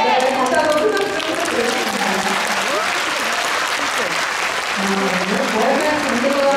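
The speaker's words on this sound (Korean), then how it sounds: "네, 다시 한번 큰 박수" An audience at a South Korean Navy concert in Olympic Hall breaks into sustained, dense applause that stays loud and even throughout, with a voice speaking over it.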